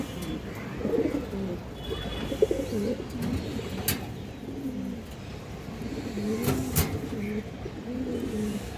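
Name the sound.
Bagha female pigeon cooing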